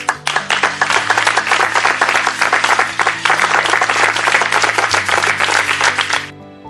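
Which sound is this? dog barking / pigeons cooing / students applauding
students applauding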